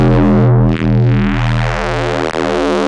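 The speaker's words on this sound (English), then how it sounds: "Maybe we'll introduce some more distortion." Distorted sine bass made in Ableton with an Akai Sampler, a loud sustained buzzing low tone with gritty harmonics, holding almost unbroken apart from two very brief dips.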